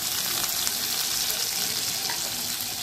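Green chili, asafoetida and curry leaves sizzling in hot oil for dry masala bhindi, a dense, continuous, loud crackle heard alone.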